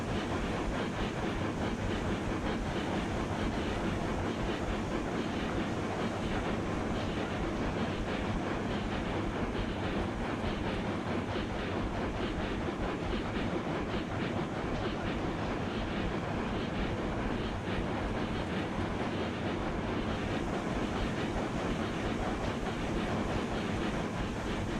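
A long freight train rolls steadily in the railway game Railroads Online, giving a dense, continuous rumble with a faint clickety-clack that holds unbroken throughout, and no voices.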